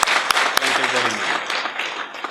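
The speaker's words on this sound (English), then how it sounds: "join me to welcome him, like Mr. Faal said, with a noisy round of applause for Mr. Faal" An audience claps to welcome a lecturer at a public lecture at UTG, a steady wash of applause with a few sharp near claps at the start, fading slightly toward the end.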